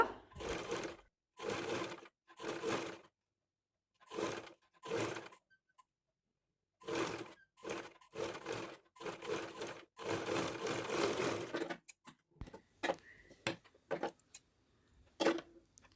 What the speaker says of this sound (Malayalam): അതിനുശേഷം സ്റ്റിച്ച് ചെയ്ത് കൊടുക്കുക